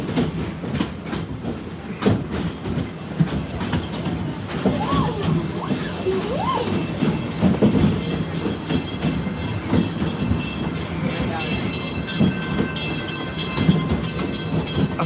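A park train rolls into Harambe station at Disney's Animal Kingdom, with steady clattering wheels, rumbling cars and occasional squeals throughout, loud and close, with faint speech mixed in.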